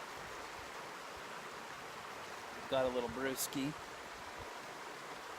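A creek flowing near a hammock spot, a steady soft rushing of water throughout, briefly overlaid by a man's speech.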